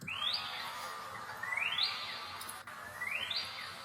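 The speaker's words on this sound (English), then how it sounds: "I actually have this ambient one shot of birds in my kit too that I recorded" A self-recorded ambient bird one-shot sample for boom bap beats: faint birdsong, a rising chirp repeating three times at a steady pace over a soft, hissy background.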